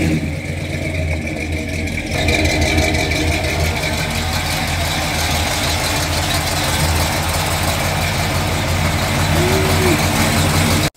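A 1977 Ford F-150 Ranger pickup's engine idles steadily and loudly up close, a continuous low rumble with a slight knock that holds even for about eleven seconds.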